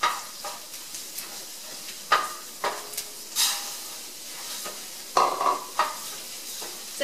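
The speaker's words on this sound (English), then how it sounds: "So toss the risotto around, let it toast for about 2 minutes." Risotto rice toasting in melted butter in a pan gives a soft continuous sizzle, broken by repeated scraping stirs and a few sharper clanks of the utensil against the pan, close and without talking.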